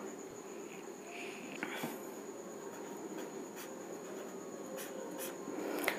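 A pen scratches out the answer to a class 9 probability problem on paper, with soft, close, continuous strokes and small taps over a faint room hum.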